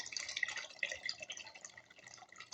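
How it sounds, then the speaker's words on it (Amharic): Thin stream of water trickling and splashing into a pot of wheat soup, close and fairly quiet, with small irregular drips and gurgles and no talking. "ውሃውን እንደዚህ እሞላለሁ"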